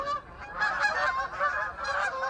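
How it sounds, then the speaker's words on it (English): Several geese honk in a ragged, overlapping chorus of nasal calls that carries steadily across the whole moment, fairly close and clear with no talking. "And there goes some geese."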